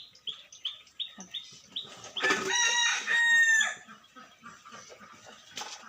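A chicken clucks in short repeated bursts, then a rooster crows loudly nearby in one long drawn-out call, followed by more scattered clucking and faint chirps.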